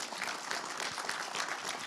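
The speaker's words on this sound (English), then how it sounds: "And so Amy Winkelman, Sundeep Iyer, let's give them one more round of applause." An audience at an evening civil-rights talk claps steadily, a dense, even round of applause filling the room for the whole stretch.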